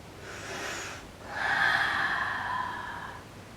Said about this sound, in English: Breathing slowly.